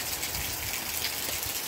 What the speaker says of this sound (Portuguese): Eu vou tomar um banho já nessa bica.